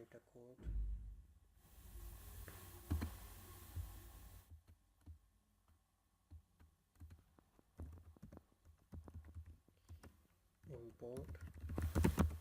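A computer keyboard clicks in scattered, uneven keystrokes while code is typed for a Flutter app, close and fairly quiet, with a person talking over parts of it.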